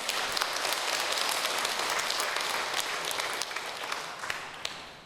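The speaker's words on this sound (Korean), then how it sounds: "이 대목에서는 우리 박수 한번 쳐야 될 것 같아요." Steady applause from a church lecture audience, many hands clapping together, holding level before tapering off toward the end.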